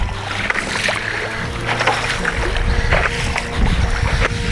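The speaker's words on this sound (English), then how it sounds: "we are on the bay doing stand-up paddle board exercise" Out on a bay during stand-up paddle boarding, gusty wind buffets the microphone over lapping water, a constant loud rumbling wash with scattered splashes.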